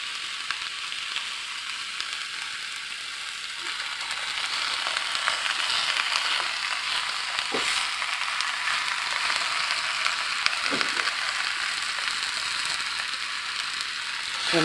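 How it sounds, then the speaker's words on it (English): Sweet potato leaves sizzle and fry in a hot pan, a steady broad hiss with small crackles and a few sharp stirring clicks, close and continuous with no talking. "So I'm going to just do a little at a time and let them cook down."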